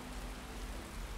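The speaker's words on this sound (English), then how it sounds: "I'm kind of excited for it to stop raining." Rain falling in the video game Skyrim, a soft, steady hiss of drops with a faint low hum underneath, continuous and even throughout.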